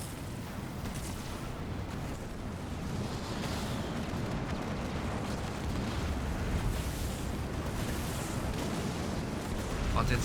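Nuke explosions in the Halo Wars 2 real-time strategy game rumble as a continuous low roar of blasts and bursts lasting about ten seconds, with game combat noise layered throughout.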